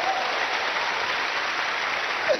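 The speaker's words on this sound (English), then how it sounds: "Clap for Jesus Christ." A church congregation claps together for Jesus Christ during a mass prayer service, a dense, steady wash of applause throughout.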